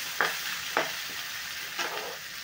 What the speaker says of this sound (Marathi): कांदा मसाले छान असे परतून घ्यायचे आहे।